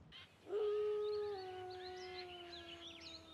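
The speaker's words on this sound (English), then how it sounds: "Different wolves would howl longer and louder for certain individuals." A wolf raises a long, clear howl that holds a steady pitch and then fades, with other wolves joining in higher, wavering howls a bit farther off, faint and alone against quiet surroundings.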